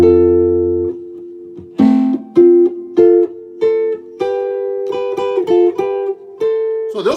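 Several arpeggios plucked on a bass guitar, a steady run of distinct notes with short gaps, opening on a held low tone and ending with a bent note, up close and alone.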